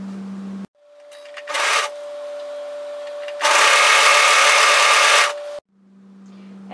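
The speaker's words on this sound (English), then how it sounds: "match the beginning and overlock those together" An overlocker stitches the side seam of a one-shoulder jersey top in two bursts, a short run then a longer loud one, with a steady motor whine and brief pauses between.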